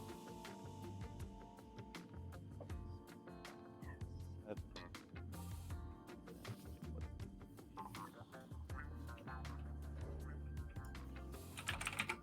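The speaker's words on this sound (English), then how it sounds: "Was someone typing" Typing on a computer keyboard at a card-game session, a rapid, irregular clatter of key presses that runs continuously throughout, close and clear, with soft background talk underneath.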